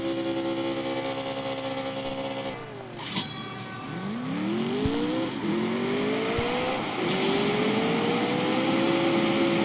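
Race cars roar and accelerate in a CSR2 mobile drag race showdown featuring a COPO Camaro, engines revving loud with rising gear-shift sweeps, a brief dip near the start before steady full-throttle howling continues to the end.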